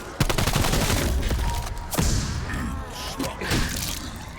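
Rapid automatic fire from a heavily modified AK-47 in a Call of Duty zombies game, loud and close, with dense overlapping bursts and thuds running throughout.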